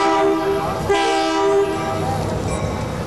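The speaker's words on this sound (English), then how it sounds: "The Intercity Express, also called the Ice Train, rolls into Tucson." A German Intercity Express high-speed electric train rolls into Tucson, its horn sounding in long, sustained, multi-tone blasts over the rumble and rattle of the moving cars. The train is close and loud.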